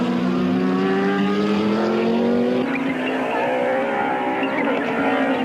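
Modified race cars, including an Opel Record and Audis, roar around the Midvaal circuit in 1993, with loud engines rising and overlapping as they pass close by, steady and continuous.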